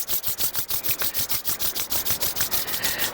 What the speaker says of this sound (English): let's just rub our palms together.